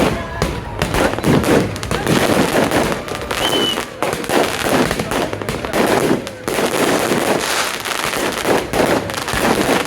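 Rapid crackling bursts of firecrackers popping in dense, irregular volleys at a New Year celebration in a park, loud and close, with scattered voices faintly mixed in.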